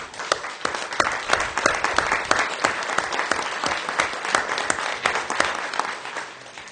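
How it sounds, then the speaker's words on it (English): Sustained applause from the audience at a city council meeting, steady dense clapping close by with no talk over it. "I would just want to applaud you."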